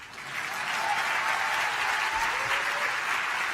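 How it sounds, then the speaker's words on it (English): An audience at a political conference keynote claps steadily, the applause swelling in the first half second and then holding as a dense, even wash of many hands. "Yeah, we can clap for her."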